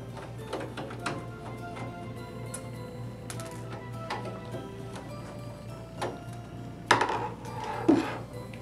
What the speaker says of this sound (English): Okay, after we remove all the hard drives, next step is remove the motherboard tray. To do that, just remove 2 screws on each side.